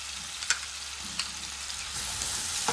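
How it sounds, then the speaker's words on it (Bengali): Onion, ginger, garlic and green chili paste fry in hot oil with a steady, close sizzle, broken by a few sharp spatters and stirring scrapes, and no voices. "মশলাগুলো ভালো মতন ফ্রাই হয়ে গেছে"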